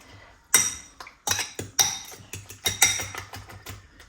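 Utensils scrape and clink against a bowl as food is stirred together for a quick high-protein Jamaican meal, a series of irregular sharp knocks and rattles close by.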